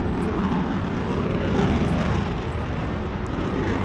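A jet aircraft flies over in a battle royale video game, a loud, continuous, steady roar of broad engine noise lasting several seconds with no talk.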